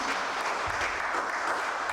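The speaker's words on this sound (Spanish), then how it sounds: "es un aplauso a usted por haber tomado la decisión de estar aquí" Applause for members of a church congregation at a Sunday service, a steady wash of clapping held at an even, moderate level with no gaps for its whole short length.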